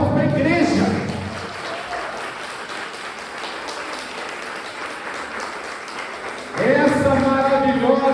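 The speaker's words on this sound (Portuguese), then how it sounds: "Então uma salva de palmas para a igreja." A church congregation applauds during an anniversary service, steady clapping filling the middle of the clip, with a speaker's voice heard before and after it.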